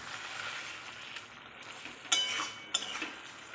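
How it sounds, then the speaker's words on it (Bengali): Prawn curry with mustard-poppy paste, its oil risen to the surface, is stirred in a pan over the heat: a soft, steady sizzle with a couple of sharp spoon scrapes against the metal near the end. "একটু ঘেঁটে দেখাই"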